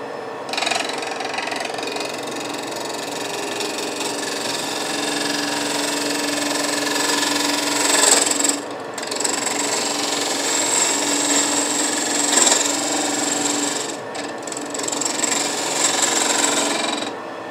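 A wood lathe spins a cherry burl hollow form while a tool cuts, a steady whirring, scraping drone with brief pauses and bursts of harsher cutting, close and loud, without talk.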